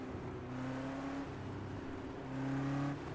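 A car engine drones while driving downhill through corners on a rural road, a low steady hum with a modest rise in pitch and level near the end, moderately quiet and without talk.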